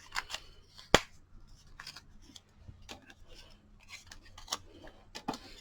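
Scissors snip through two-sided pattern paper at a desk, a scattering of sharp close crisp cuts and paper rustles with one louder clack near the start and quiet pauses between.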